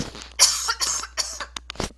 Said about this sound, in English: Sorry, overtaken with a cough.